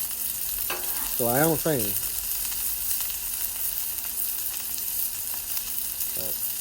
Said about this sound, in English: cooking these steaks, you want to use a high temperature